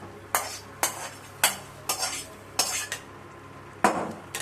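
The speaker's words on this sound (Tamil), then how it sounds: "இந்த வெங்காயம் தக்காளி இதில் சேர்த்துக்கிறோம்." Utensil scraping and clinking in a pan as onion and tomato are stirred into a tempering for chickpea soup, with repeated sharp strokes about every half second, close and moderately loud, no talk.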